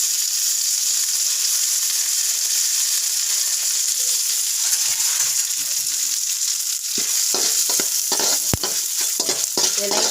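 Steady hissing sizzle of spices frying in a hot pan, with scraping and stirring sounds growing busier toward the end.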